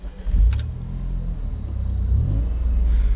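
Low, steady rumble of a Chrysler Stratus convertible's V6 engine, smooth and continuous with a slight swell toward the end, heard close with no voices.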